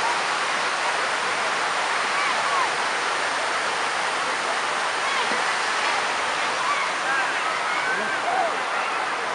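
Water pours steadily over a large dam in Serang, Banten, making a dense, continuous roar like a waterfall that stays loud and even throughout, with no breaks.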